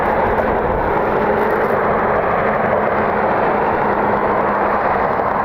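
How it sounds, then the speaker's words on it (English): An American Airlines A319 airliner taxis on a windy night, its engines a loud, steady, broadband roar with a faint low hum running underneath, unbroken throughout. "the American A319 that's taxiing behind that is flight 3033, and they will be on their way back to Charlotte"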